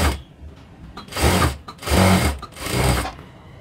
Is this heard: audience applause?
no